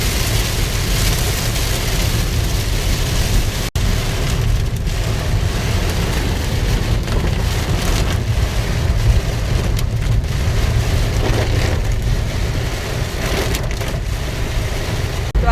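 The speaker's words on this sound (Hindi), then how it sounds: "तो आप देख सकते हैं कि कितनी ज़ोर से बारिश चालू है।" Heavy rain in Nashik drumming steadily beside a factory construction site, a dense, loud, continuous hiss and patter with a sharp knock partway through.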